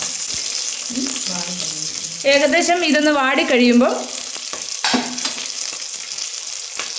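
Mustard seeds, shallots and curry leaves fry in hot oil for a Kerala pidiyum kozhiyum dish, giving a steady, close, dense sizzle throughout while a person talks over it in the middle.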